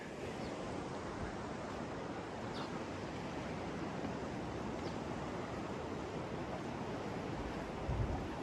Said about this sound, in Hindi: इनके नीचे भी पानी बहता हुआ जा रहा है।